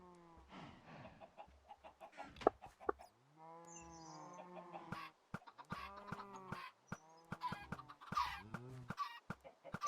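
Chickens in the Minecraft GregTech 5U modpack cluck and squawk repeatedly in short, irregular bursts, several birds overlapping at close range with no talk over them.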